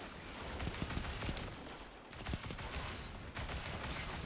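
Bursts of weapon fire crackle steadily through a Destiny 2 firefight, a dense stream of rapid shots at moderate level with no clear pauses and no speech.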